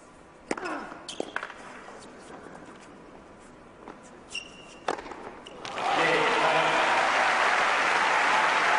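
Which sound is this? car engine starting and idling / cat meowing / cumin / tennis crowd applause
tennis crowd applause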